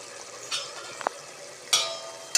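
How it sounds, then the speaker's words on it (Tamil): Spices and chilli powder sauté in a pan for veg biryani, a soft, steady sizzle broken by a few sharp stirring scrapes and clinks, quiet and close, with no talking. "இதை நல்லா வதக்குங்க."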